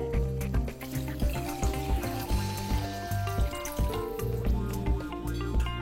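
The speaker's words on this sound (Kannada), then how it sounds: "ಏನು ರೈಸ್ ತೊಗೊಂಡಿದ್ದೀನಿ ಅದಕ್ಕೆ ಡಬಲ್ ಅಷ್ಟು ನೀರು ಆ್ಯಡ್ ಮಾಡಬೇಕಾಗತ್ತೆ" Water is poured into a pot of carrot rice with masala, a close splashing pour mixed with sizzling from the hot pan, over faint background music.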